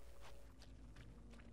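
Footsteps from the video game Dead Island 2 thud along in a steady walking rhythm, several soft close steps spread over a noisy, dense in-game background.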